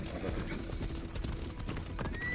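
Horse hooves clip-clopping in Assassin's Creed Odyssey, a quick steady gallop rhythm close by, mixed with game ambience and faint background sounds.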